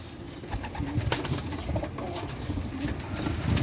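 Pigeons coo softly amid a loft's background murmur, with low repeated calls spread across the clip.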